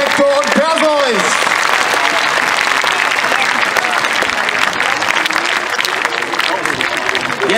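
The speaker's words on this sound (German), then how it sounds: "wir klatschen noch mal zusammen für die beiden" Audience applause at a live gladiator combat show, a steady loud wash of clapping that fills the whole stretch, with a voice talking over the start.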